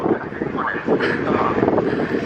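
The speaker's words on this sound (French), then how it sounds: "J'espère que vous m'entendez parce qu'il y a un vent de ouf." Gusty wind buffets a camera microphone with a rough, low roar on a beach, while a person talks underneath it.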